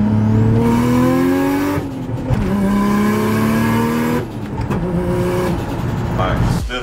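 Nissan Stagea R34 with a 313 kW turbo engine and a 45 mm Turbo Smart external wastegate revs loudly through rising gear pulls, with gear changes between them and a voice talking over it.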